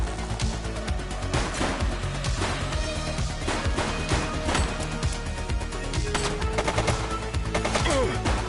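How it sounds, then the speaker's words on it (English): Dense, continuous gunfire from a police video game shootout, loud and busy throughout with overlapping bursts and crashes layered over a steady game soundtrack. "He's shooting!"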